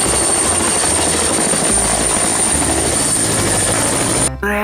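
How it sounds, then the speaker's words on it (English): Helicopter heard close and loud, a dense continuous rotor and engine roar with a steady high whine that cuts off abruptly near the end. "This is a helicopter."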